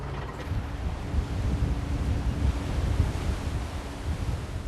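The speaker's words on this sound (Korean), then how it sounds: "파도가 심상치 않다. 좀 가라앉는가 싶던 바람이 다시 성을 낸다." Wind and rough winter waves at sea around a 78-ton crab fishing boat make a steady, close rushing roar of water and wind with gentle surges. It continues without pause and no voices are heard.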